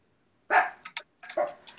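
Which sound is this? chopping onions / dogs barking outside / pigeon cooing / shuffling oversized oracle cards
dogs barking outside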